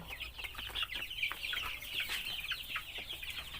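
Several chickens cluck and chatter close by in a continuous, busy stream of short calls, with no talking.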